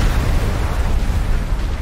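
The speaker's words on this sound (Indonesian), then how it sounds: "Ya, kapal gue meledak, guys." A ship exploding in the video game Subnautica Below Zero, heard as a sustained loud roaring rumble that fills the whole stretch without a break.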